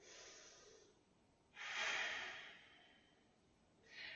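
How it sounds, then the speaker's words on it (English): Slow deep breaths during a yoga session, each a soft, airy, quiet exhale or inhale, close to the mic and separated by near silence. "3 deep breaths here."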